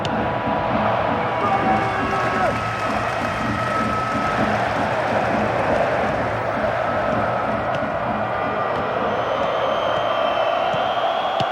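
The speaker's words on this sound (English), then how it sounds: "The rhythmic chanting of the crowd." Crowd in the Pro Evolution Soccer 2010 video game chanting rhythmically, a loud, steady stadium roar with a faint repeating pulse running through it from start to finish.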